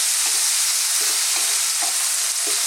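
Tomato and onion frying in a pan, heard as a loud, steady sizzle throughout, with soft periodic scrapes of a utensil stirring the mixture.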